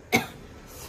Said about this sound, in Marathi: आता खोकला उमळलं